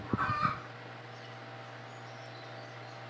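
Egg-laying hens in a backyard chicken coop with no rooster, a few brief, fairly close clucks at the start, then only a steady low hum.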